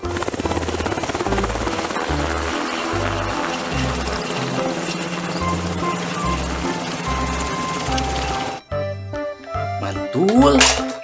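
A toy army helicopter's steady whirring buzz plays with a pulsing, repetitive electronic tune, ending in a brief pause and a rising squeal.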